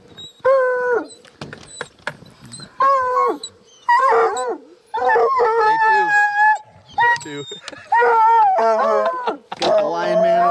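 Hunting dogs on a mountain lion hunt howl and bay in long, repeated wavering cries, loud and close, with brief gaps between bursts and a few barks near the end.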